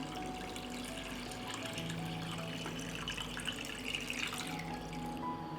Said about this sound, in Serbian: I sipam vodu u šerpu do visine poklopca.